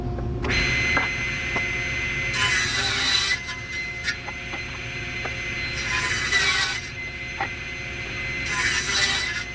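A table saw rips wooden rails in three loud, rasping cuts of about a second each. A steady dust-collector hum runs beneath them, with light knocks and handling noises between the cuts.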